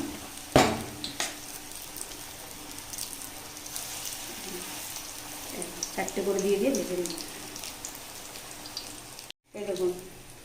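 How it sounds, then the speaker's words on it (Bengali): Taro flower fritters fry in oil over low heat, a soft continuous sizzle with a few sharp utensil clicks and scrapes, and a brief drop to silence near the end. "বড়াগুলো লাল লাল করে ভেজে নিয়েছি"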